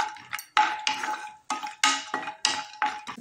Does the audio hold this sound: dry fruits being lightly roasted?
yes